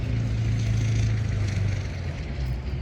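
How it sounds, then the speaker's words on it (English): A steady low rumble of heavy machinery burying cables outdoors, continuous with a droning engine hum and faint mechanical noise throughout. "Sorry for the background noise, but they're burying cables in my front"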